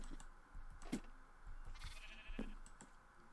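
Sheep bleat in a Minecraft game, two short nasal bleats about a second and a half apart over a faint background of game ambience and soft clicking.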